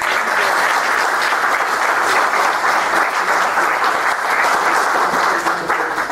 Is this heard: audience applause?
yes